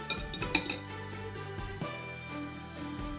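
Salad being mixed in a bowl with clinks and light metallic taps of utensil against dish, a quick cluster of bright clinks at first and then softer scraping and tinkling, close and quiet.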